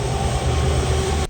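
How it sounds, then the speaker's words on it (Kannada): A train rolls past a railway level crossing, its steady, loud rumble filling the moment without pause before cutting off abruptly at the end. "ಇಲ್ಲಿ ರೈಲ್ವೆ ಗೇಟ್ ಹಾಕಿದ್ರು, ಟ್ರೈನ್ ಬರುತ್ತೆ ಅಂತ"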